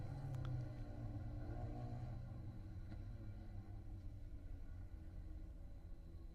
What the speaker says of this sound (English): Bacon Zelenka in that bright green livery just behind our pole sitter. As the field rolls into position